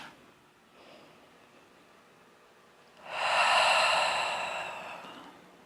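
A deep, breathy exhale during a yoga flow rises loudly near the mic after a quiet stretch, a broad airy rush lasting a couple of seconds before fading out.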